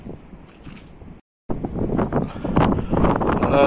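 Wind blows over flooded fields beside an overflowing canal, buffeting the microphone with a rough, gusty roar that drops out briefly and then returns stronger.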